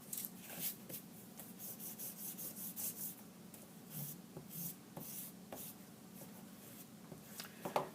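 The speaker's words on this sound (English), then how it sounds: "Here's the pink eraser I was looking for the other day." A pink dollar-store eraser rubs back and forth across paper in close, scratchy strokes of uneven rhythm, steady and fairly quiet, with no talking over it.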